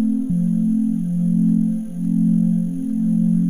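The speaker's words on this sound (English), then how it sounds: "now we've kind of got this nice pad sound" A sustained, smooth synthesizer pad in Ableton Live drones steadily, its low tone gently swelling and dipping in a slow, regular LFO pulse, with no voices.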